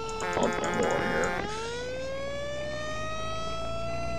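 Fire engine siren in the Fire Engine Simulator video game, opening with a burst of rapid warbling tones that then settles into a long rising wail, steady and loud with no talk.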